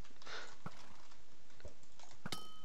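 A horse in Minecraft Blitz Survival Games makes a few scattered, sharp sounds, likely hoof clops or snorts, set against faint ambient hiss, with a brighter burst near the end.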